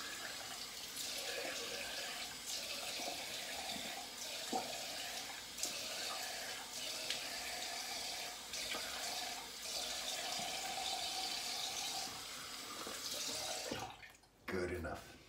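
A faucet runs steadily into a sink while soap is rinsed from a shaving brush, a close, continuous splashing wash with slight shifts in flow, cut off near the end before a brief final splash.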